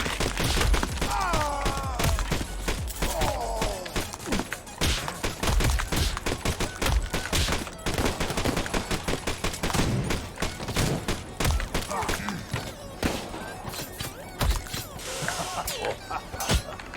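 Near-constant gunfire in the MADNESS: Project Nexus arena mode with unlimited ammo, dense rapid bursts and cracks mixed with shattering and crash impacts, loud and continuous throughout.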